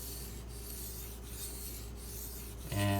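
A Benchmade Mini Crooked River knife is drawn across a 1K whetstone in steady, rhythmic rasping strokes, close and alone, ending in a sudden louder clunk.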